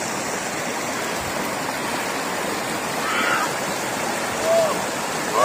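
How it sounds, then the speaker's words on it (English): A forest waterfall rushes with a steady, loud broadband roar that fills the whole clip, with faint brief voices rising above the water now and then. "Look at those waterfall."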